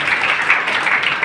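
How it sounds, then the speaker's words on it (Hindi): Audience applause at the 539th foundation day ceremony of Bikaner city, an award event for youth: a steady, dense wash of clapping from a crowd, even and continuous throughout. "आपकी तालियां शायद इस बात को सही साबित भी करेंगी।"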